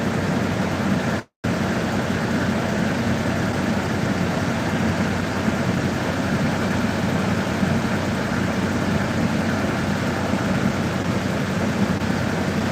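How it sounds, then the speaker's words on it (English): A loud truck engine runs steadily outside a hazmat incident scene, a continuous heavy roar with a jet-like rushing quality that holds without pause. "that truck's loud"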